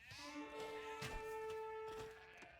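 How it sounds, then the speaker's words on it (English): Sheep bleat in a real-time strategy game during a semifinal match, several short bleats over in-game ambience and music, with no one talking. "Oh, kill the sheep"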